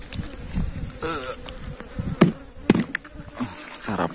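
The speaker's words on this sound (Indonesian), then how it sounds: "untuk lebah-lebahnya ini pasti akan kembali masuk ke dalam sarang sini" Bees buzz around a bee trap set near the hive, close buzzing passes flying by in uneven bursts, with a few sharp knocks and no talking.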